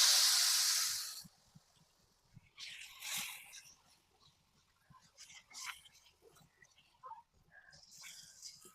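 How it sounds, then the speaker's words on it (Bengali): Flour batter hits hot oil in a wok with a loud burst of hissing sizzle, then settles into quieter, intermittent crackles and spits. "এবার আমি ময়দা মাখানিটা দেবো।"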